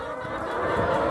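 A chicken clucks and chatters close by outdoors, a loud brief burst of raspy fowl calls.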